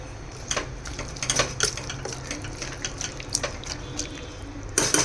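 Water splashes into a pan of fried vegetables for a dhaba-style mixed vegetable curry, with short pouring gushes and clinks of metal cookware up close and no speech.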